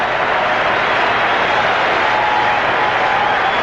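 A packed Kingdome baseball crowd roars on its feet during the 1995 playoff Game 5 between the Yankees and Mariners, a dense, steady wall of cheering that stays loud and unbroken throughout.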